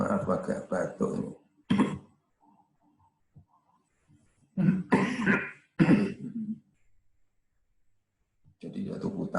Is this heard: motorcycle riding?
no